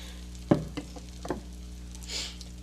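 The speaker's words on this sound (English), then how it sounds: "So we're going to let that butter melt slowly" Butter melting in a pan over medium-low heat: soft steady sizzle with a few light clicks and taps of a utensil, close and quiet, no talking.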